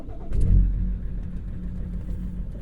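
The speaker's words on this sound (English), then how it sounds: "now, watch what happens when I start the car" A BMW E60 engine with an injector and inlet manifold problem cranks and fires, swelling into a loud low rumble, then settling into a rough, uneven idle with no one talking.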